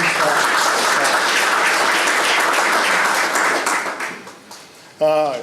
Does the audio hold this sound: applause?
yes